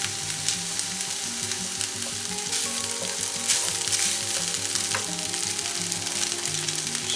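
Vegetable egg fried rice sizzles steadily in olive oil in a pan, a close, continuous frying hiss with occasional stirring scrapes and no talk.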